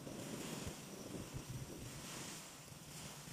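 Steady outdoor wind at a campsite buffeting the microphone, a broad rumbling roar with gusty swells that holds for the whole stretch, with no voices.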